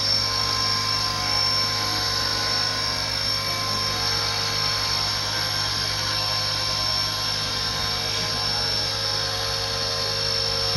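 A steady, high-pitched motor whine with a buzzing rotor drone holds constant throughout as a Blade Fusion 180 Smart RC helicopter hovers close by.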